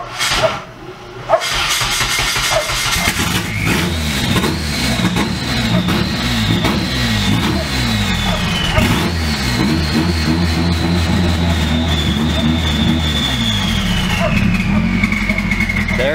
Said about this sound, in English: so first start right here.